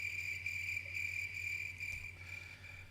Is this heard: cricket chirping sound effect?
yes